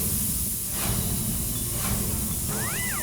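A steady, loud hiss of escaping steam from a pressure cooker fills the clip, with a brief rising-and-falling whistle tone near the end.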